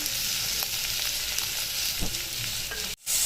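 Garlic cloves, a small piece of ginger and onion sizzle steadily in a hot pan, a constant loud frying hiss with a few soft stirring scrapes and a brief dropout near the end.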